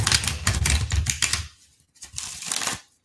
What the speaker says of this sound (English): In the meantime, for Gail Emmer, I'm going to shuffle one more time